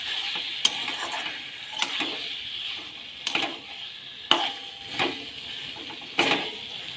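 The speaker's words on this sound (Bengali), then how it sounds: "এটা চর্বিগুলো দিয়ে দেবো সবজিগুলো দিয়ে দিচ্ছি" Mutton fat and vegetables tipped into a pot of browned potatoes, with soft sizzling under periodic sharp clinks and scrapes of a spoon against the pot, spaced about a second apart.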